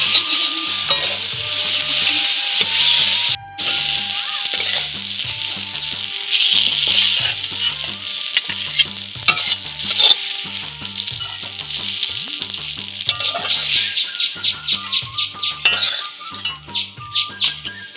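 Taro greens frying in a pan for a village-style dish with shrimp, a continuous close sizzle under repeated rhythmic stirring and scraping, with clinks of a metal utensil on the pan and no talking.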